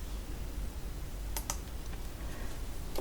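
A few sharp keyboard keystrokes and mouse clicks, brief and close, over a steady background hiss while entering a VLOOKUP formula in an Excel spreadsheet.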